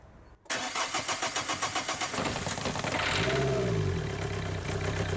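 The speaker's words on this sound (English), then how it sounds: "Start the engine immediately and without preheating the plugs." A diesel engine cranks in quick rhythmic pulses without plug preheating, then catches and settles into a loud, rough idle, close and steady.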